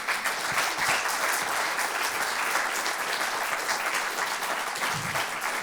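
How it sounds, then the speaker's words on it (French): Audience applause during a theatre tribute, a steady wash of many hands clapping at even loudness throughout, with no voices over it. "on peut les applaudir encore, s'il vous plaît"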